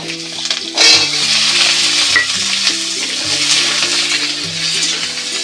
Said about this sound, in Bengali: আমড়াগুলো আমি এখন হালকা করে ভেজে নেব।